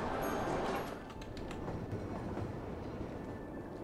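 Trains running in the city-building game Cities: Skylines, a continuous rumbling rail roar that swells loud at first, then settles into a steady, slightly softer drone with faint clatter.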